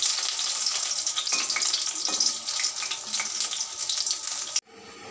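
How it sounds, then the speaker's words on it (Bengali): Brinjal (eggplant) slices frying in a pan give a steady bright sizzle with a few sharp pops, ending abruptly near the close. "এখন কয়েকটা বেগুন ভাজা করছি,"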